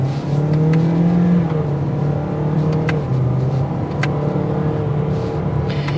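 A 2024 Toyota Corolla Hatchback with a 2.0-litre four-cylinder and CVT accelerating, a steady droning engine note rising in pitch from inside the cabin, loud and continuous without speech.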